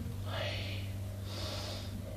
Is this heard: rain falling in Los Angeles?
no